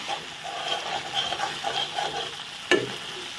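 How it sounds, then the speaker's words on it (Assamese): Food frying and being stirred in a pan, a steady soft sizzle with light scraping strokes and a sharp clink near the end. "ভালদৰে ভাজি ললো"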